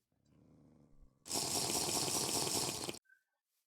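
Water is collected in TerraFirmaCraft, a Minecraft mod: a loud, steady gush of pouring water lasts about two seconds after a soft game hum, then cuts off abruptly with a short chime.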